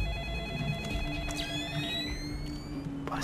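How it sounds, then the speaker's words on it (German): A telephone rings repeatedly inside the Splinter Cell Pandora Tomorrow video game, its electronic trilling tones sounding in bursts over a low game backdrop. "Boah, das Telefon nervt."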